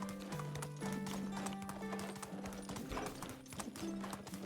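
A horse in the medieval video game Medieval Dynasty gallops with a rapid, steady clip-clop of hooves under game music, close and continuous, with no talking.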